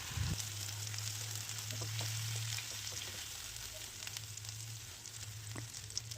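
Ground pea paste fries in a pan with a steady sizzle while a utensil stirs it, scraping now and then, close and fairly quiet.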